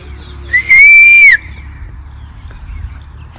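A man whistles to call someone in a rural field, giving one loud, sustained, slightly rising whistle that lasts under a second and then stops, leaving quiet outdoor background.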